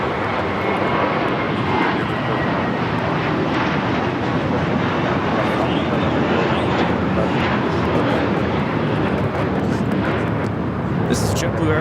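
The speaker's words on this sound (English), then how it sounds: "taking off to Fort Lauderdale on the A321" A JetBlue Airbus A321 takes off from Los Angeles bound for Fort Lauderdale, its engines a loud, steady broadband roar sustained throughout, with faint voices underneath.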